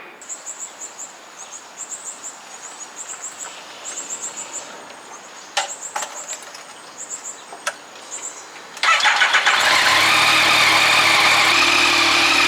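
A 2020 Yamaha MT-09 motorcycle being warmed up before an oil and filter change: first quiet ticking and chirping outdoors, then the engine starts abruptly and settles into a steady, loud, close idle.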